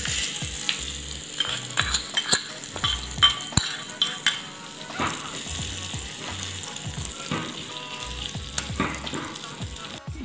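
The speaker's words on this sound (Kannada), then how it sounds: "ಇವಾಗ ಒಗ್ಗರಣೆ ರೆಡಿ ಆಗಿದೆ ಅದನ್ನ ಹಾಕ್ತಾ ಇದ್ದೀನಿ" Hot tempering with curry leaves and turmeric tipped into tomato coriander pachadi, giving a bright crackling sizzle with clinks and stirring sounds of a spoon against the pan, close and without talk.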